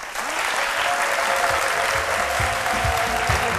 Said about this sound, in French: Je relève la tête pour vous demander tous vos applaudissements et votre soutien pour accueillir ici Madame X.